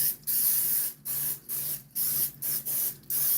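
Cooking spray hisses from an aerosol can in a series of about eight short, close bursts with brief pauses between them while greasing muffin pans in a home kitchen.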